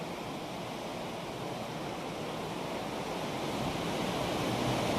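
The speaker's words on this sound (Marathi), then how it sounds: "झरा वाहून राहिलेला आहे," A mountain stream near Manali rushes in a steady, broadband wash with no pauses. The flow sounds constant and moderately loud, swelling slightly toward the end, with no voices.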